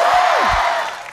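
A studio audience at a Korean gag comedy show taping gives a loud, unified shout of cheering on cue, a short burst that fades out within about a second.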